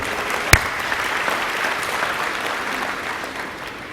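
Audience applause at a conference fills the room with dense, sustained clapping and a sharp clap near the start, holding steady before slowly easing off.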